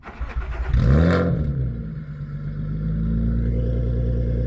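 A car fitted with a new Spec-D Tuning exhaust cranks and fires up with a loud burst around one second in, then settles into a steady, throaty idle.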